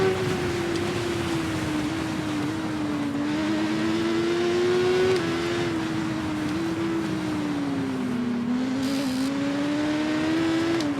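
Motorbike engine in the racing video game TT Isle of Man 2: a steady, loud droning whine that climbs and dips in pitch as the bike accelerates and shifts up, continuous throughout with no talking.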